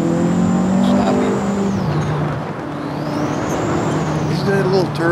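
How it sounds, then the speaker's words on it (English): A Vauxhall 220 turbo in a racing video game drones loudly under constant engine noise, with a thin rising and falling turbo whistle sweeping over it, and someone talks over the car. "Is that a little turbo? Hear him whistling?"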